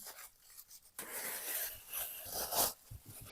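Crinkly rustling of a plastic bag as chilled shortcrust dough is taken out, close and fairly quiet, with irregular handling bursts and a sharper crackle near the end.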